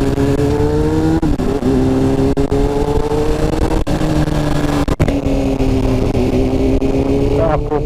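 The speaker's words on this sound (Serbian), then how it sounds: "F900XR-u 2021. Нов мотор." A 2021 BMW F900 XR motorcycle engine drones steadily while riding, close and loud, with a few brief shifts in pitch; a voice speaks over the engine.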